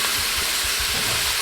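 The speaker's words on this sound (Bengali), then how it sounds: "মাংসটা দিয়ে দিচ্ছি।" Duck meat, coated in mustard oil, hits spice paste fried down in a hot pan, setting off a steady, loud, continuous sizzle and hiss with no break.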